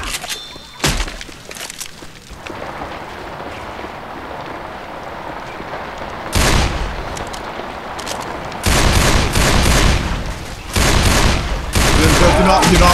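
Magnum pistol shots in Left 4 Dead 2, loud sharp bursts arriving in separate clusters over ongoing game noise, with a short quiet stretch before the heavier firing picks up.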